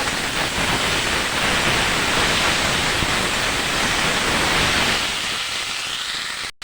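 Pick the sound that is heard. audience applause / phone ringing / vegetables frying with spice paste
vegetables frying with spice paste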